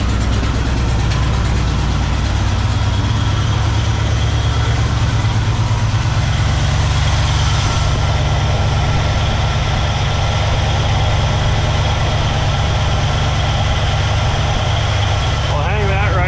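A 1964 Pontiac Catalina barn find, revived after more than 30 years off the road, runs at high idle with a steady, loud, low engine drone throughout, while people talk over it.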